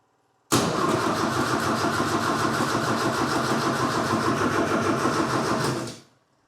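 A vehicle engine cranks steadily for about five and a half seconds without catching, a loud, even starter churn that stops abruptly with no idle following.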